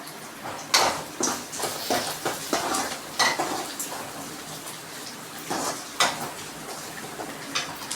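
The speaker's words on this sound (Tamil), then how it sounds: "வெங்காயம் எப்பவுமே நல்லா பொன்னிறமான கலருக்கு மாறணும், அது வரைக்கும் நல்லா வதக்கிக்கோங்க." Onion and a whole tomato sauté in a pan for a fenugreek kulambu. A spoon scrapes and clinks against the metal at an irregular rhythm over a soft, steady frying hiss, close and moderately loud.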